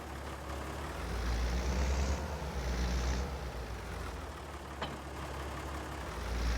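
Deutz-Fahr tractor engine in Farming Simulator 22 holds a steady low rumble throughout, swelling slightly in the middle and at the end, with no talk over it.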